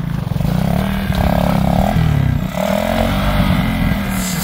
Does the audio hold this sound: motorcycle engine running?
yes